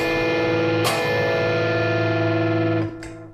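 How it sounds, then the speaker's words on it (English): A distorted electric guitar chord rings out loud and sustained, a power chord voicing for rock or metal, with a second pick attack near the start before it cuts off abruptly at the end. "that will work well with distortion too."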